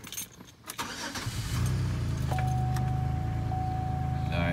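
Pontiac Aztek cranking and firing up after work on its brake booster, settling into a steady, slightly rough idle with a faint whine above the engine drone.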